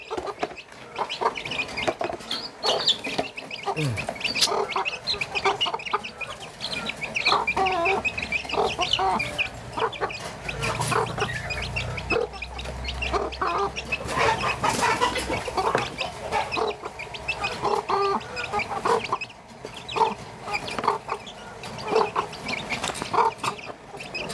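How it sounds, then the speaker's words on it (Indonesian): Chickens on a home farm cluck and squawk continuously while being fed scraps, a busy, close flock with overlapping calls and some mechanical rattling in the background. "Oke, kita akan berikan kepada ayam."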